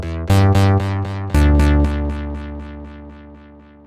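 Guitar notes through the FreqEcho delay plugin at a 50% mix, two struck chords each followed by a train of evenly spaced echo repeats that fade steadily toward silence, with no talk.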